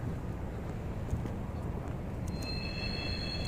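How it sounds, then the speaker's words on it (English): A train passing in upstate New York produces a dense, continuous rumble, with thin metallic wheel squeals rising near the end, with no voices. "Yeah, that's the train."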